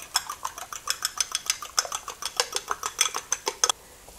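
Three eggs beaten in a bowl with a whisk, a fast, even run of close, bright clicking strokes against the bowl that stops abruptly near the end.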